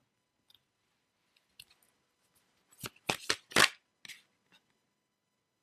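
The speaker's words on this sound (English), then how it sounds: "I started to shuffle the life purpose cards" A deck of life purpose cards is shuffled by hand near the mic, giving a short burst of rapid riffling flicks after scattered light taps and clicks in an otherwise quiet room.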